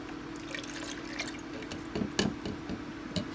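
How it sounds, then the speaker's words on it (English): Coconut milk is poured into a NutriBullet blender cup, making a quiet, close liquid trickle with a few soft drips and splashes. "So let's pour in our coconut milk."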